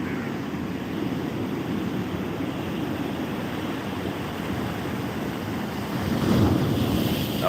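Sea waves washing ashore on Pondicherry beach in the morning, a steady broadband surf roar mixed with wind buffeting the microphone, swelling slightly louder near the end, with no talking.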